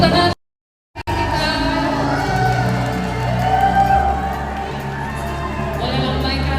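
Crowd at a campus ambassador pageant, Duta Putra/Putri Kampus at Expo UKI 2024, cheering and shouting loudly with applause over stage music, after a short silent gap at the start.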